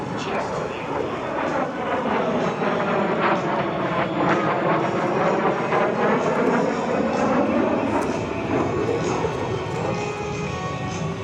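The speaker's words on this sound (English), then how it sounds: "giving us a great look at the rolling capabilities of this classic vintage jet aircraft" A vintage T-33 Shooting Star jet rolls over show center at an air show, its engine a steady, loud roar with a slowly shifting pitch as it passes, continuous for the whole stretch.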